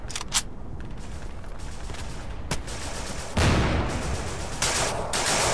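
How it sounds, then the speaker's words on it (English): Gunfire in the WWII shooter Day of Infamy, set at the Battle of the Bulge: dense, near bursts of rifle and automatic fire, sharp single cracks, then a louder sustained volley late, with no talking. "someone's firing at me"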